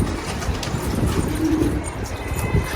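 A male pigeon coos in low, soft throaty pulses, close by against faint background noise, the calls rising and falling in a short repeated phrase.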